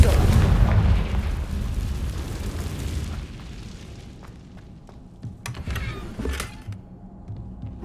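A Confringo spell blast in Hogwarts Legacy, opening with a deep, loud explosive boom that rumbles and fades, followed by scattered crackles and sharp effect hits.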